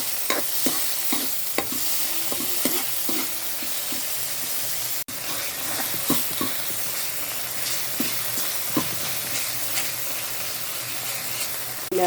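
Tofu, garlic, onion and tomato fry in a pan, a steady sizzle running throughout with repeated scraping and stirring clicks of a utensil, close and fairly loud with no talking.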